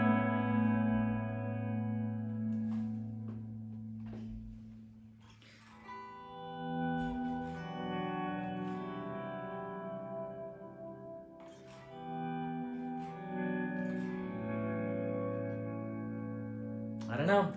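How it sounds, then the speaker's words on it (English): An electric guitar run through a BOSS ME-90 spring reverb and a Katana amp's plate reverb plays sustained chords and picked notes with long, shimmering, echoing tails, the reverb washing between phrases and no talking over it. "I'm using the spring reverb on the ME-90, and I've got the plate reverb set to like 12 o'clock on the Katana."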